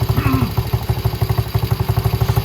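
Small 125cc Venom Racing Madix ATV engine running close by at idle, a steady rapid chugging pulse with light mechanical clatter, the beat quickening slightly as the idle is adjusted upward.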